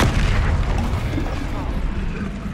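A Confringo explosive spell erupts in Hogwarts Legacy with a loud, rumbling blast that fills the scene and slowly trails off, dense low booming throughout.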